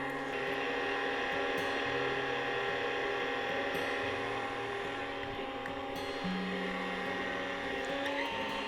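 An electric mixer whirs steadily through pumpkin cheesecake batter with brown sugar, pumpkin pie spice and molasses. The motor hum is constant and moderately close, with slight shifts in pitch and no talking.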